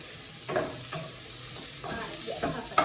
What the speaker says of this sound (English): So give it a stir.